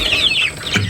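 Village chickens on a small free-range farm cluck nearby in a brief, loud burst of a few calls.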